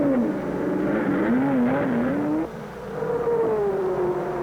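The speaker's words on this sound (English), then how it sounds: "try and catch Clark and Gurney, but they're setting a torrid pace, and the crowd loves it" Ford race cars from 1963–64 racing on a track, with a loud, continuous engine drone whose pitch rises and falls as the cars pass, and no talking.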